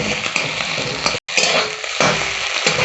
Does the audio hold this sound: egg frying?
yes